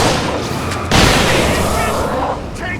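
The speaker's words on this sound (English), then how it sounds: "See how he likes flare guns." A flare gun fires in Alan Wake Remastered, a single sharp burst whose broad hissing blast lingers for over a second before fading, standing out over a dense noisy backdrop.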